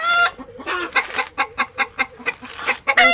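Several chickens cluck in a busy, overlapping series of short calls, fairly close and loud, with one louder squawk near the end and no voices.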